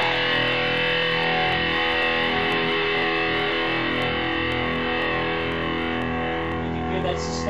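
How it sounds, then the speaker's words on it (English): An electric guitar played through a GDI21 amp-sim pedal set to a high-gain Mesa Boogie distortion, giving a loud, thick, sustained distorted chord that rings out continuously. "I'm going to put it on the high gain, so it's a lot of distortion."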